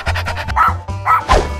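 A dog barks in a few short bursts, close and loud, with a low tonal hum underneath, in a playful cartoon-like style.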